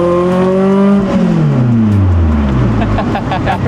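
Exhaust note of a Toyota MR-S while driving, the engine tone sweeping downward as revs drop, then a throaty rumble building again, loud and close throughout.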